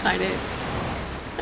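Small waterfall in the Outer Wilds video game, a steady broadband splashing wash of water that runs evenly throughout, with brief faint voice-like bits at the start and end.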